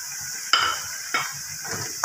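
Potatoes sautéed in a pan before spinach goes in, a steady soft sizzle broken by three sharp scraping stirs of a utensil against the pan.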